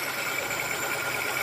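Daihatsu Ceria carburetor engine idling steadily while its fuel mixture is adjusted, a faint, even hum with a slight whine and a low rumble underneath, continuous and unchanging.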